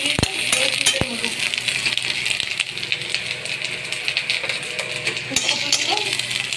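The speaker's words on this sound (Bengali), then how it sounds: "ফুলকপি ভাজছি, আলু সেদ্ধ করে দিয়ে দিচ্ছি। লাল করে ভাজবো।" Cauliflower fries in a pan with a dense, continuous sizzle, broken by occasional sharp clinks and scrapes of a utensil against the metal.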